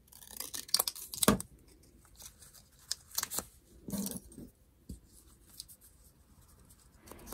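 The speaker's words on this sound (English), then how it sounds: "I think I'm going to cut this tag down." Scissors snip a paper tag for a journal page, producing a few quiet, crisp cuts and rustles in an otherwise hushed room.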